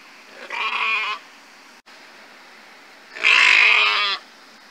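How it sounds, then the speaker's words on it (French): Ouessant sheep bleating in two separate calls, the second longer and louder, fairly close with nothing else around. "Le mouton bêle."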